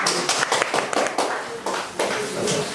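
A small audience claps hands at a creator audition event, a short burst of irregular, close claps lasting a few seconds without talk.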